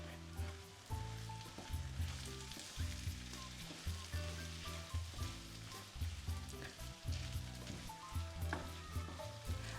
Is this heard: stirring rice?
yes